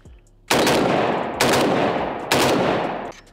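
A Riley Defense Krink rifle fitted with an ALG trigger fires three loud, sustained full-auto bursts at close range, each ringing out before a short gap, with no talking.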